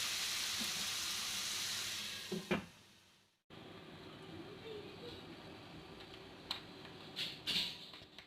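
Onion-tomato masala frying under a lid in a covered pan, a soft steady sizzle that cuts out briefly, then returns quieter with a few faint clinks.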